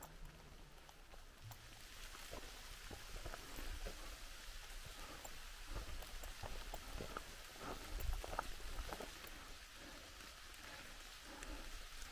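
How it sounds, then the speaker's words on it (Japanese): Heavy rain falls steadily on a summer mountain hiking trail at Mt. Nyukasa, a dense continuous patter with scattered nearby drops and a few thuds, no talking. "結構雨強く降ってきましたね"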